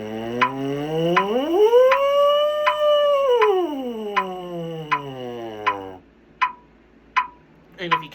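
A smooth trombone siren glissando sweeps from low up to high and back down, followed by a few sharp clicking ticks in the quiet after.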